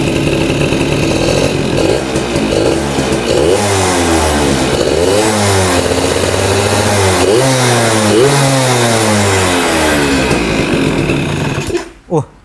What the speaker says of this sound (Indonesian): Terdengar dari suaranya motor ini udah open filter guys.